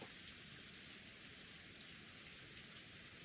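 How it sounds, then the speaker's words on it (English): Steady rain falling in the visual novel game Umineko, a dense, even hiss of drops with no breaks, soft and continuous with no voices. "Rosa finally realized the peaceful sound that put her to sleep was actually the rain that had started falling."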